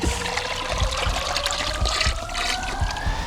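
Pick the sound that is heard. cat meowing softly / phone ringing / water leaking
water leaking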